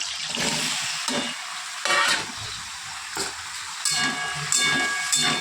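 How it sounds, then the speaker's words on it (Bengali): Potatoes frying in hot oil, a loud, close, hissing sizzle that swells in bursts as the pieces are moved, steady for several seconds with no speech. "চলো এবার আলুগুলো ভেজে নি এই তেলে"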